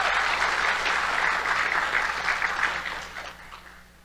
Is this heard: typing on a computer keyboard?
no